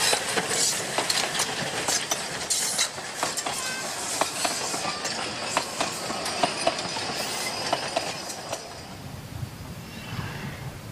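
Locomotive 99-4511 runs as a pilot engine ahead of a short passenger train near Wettin. It rolls steadily with dense rhythmic wheel clatter and metallic clicks, then recedes into quieter background noise near the end.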